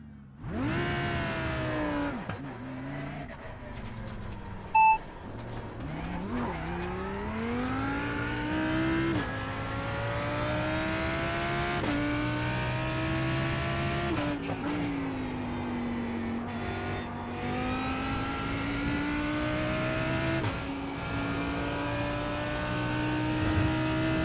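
A Lamborghini race car in a racing video game at Spa restarts and revs, its engine note climbing and falling through loud sustained sweeps with no talk over it.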